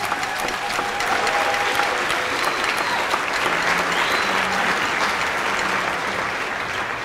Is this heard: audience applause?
yes